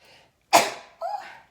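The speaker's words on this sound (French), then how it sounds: "J'ai envie d'éternuer." A single sharp sneeze bursts out close up, followed by a short breathy exhale or voice sound.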